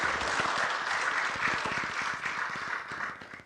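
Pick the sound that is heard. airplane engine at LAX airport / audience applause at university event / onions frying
audience applause at university event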